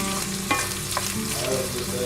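Onion fries in a skillet with bacon, giving a steady close sizzle with a few stirring scrapes throughout.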